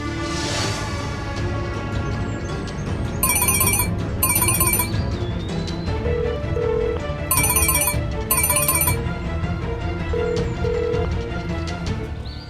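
Telephone ringing on an outgoing call that goes unanswered, a repeating electronic ring tone in paired bursts, two cycles heard over a steady background music bed.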